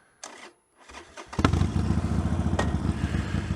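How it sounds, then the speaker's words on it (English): A Harley-Davidson motorcycle engine fires up and settles into a loud, steady, throbbing rumble while riding on Suffolk roads, close by and with no talk. "Bit noisy, but, you know, that's a Harley for you."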